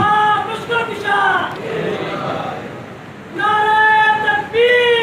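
A crowd gathered for a religious sermon shouts a religious slogan in unison, in two loud, drawn-out bursts separated by a quieter pause.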